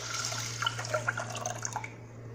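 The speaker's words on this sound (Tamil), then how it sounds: "மொத்தம் 5 கப்பு தண்ணி அளவு நான் இந்த குக்கரில் ஊற்றுறேன்" Water is poured into a pressure cooker for a pepper pongal breakfast dish, with steady liquid splashing and dripping at close range over a faint background hum.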